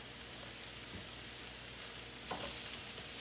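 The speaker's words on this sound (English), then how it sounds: "this has to saute a little bit until the vegetables, until the peppers and stuff are nice and a little tender" Peppers and vegetables seasoned with paprika sauté in a pan, a steady quiet sizzle with occasional soft stirring scrapes close by.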